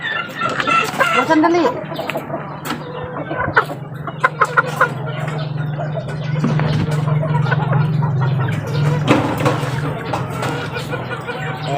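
Pet chicks clucking and peeping at close range with scattered sharp calls, while someone talks over them and a low hum runs underneath.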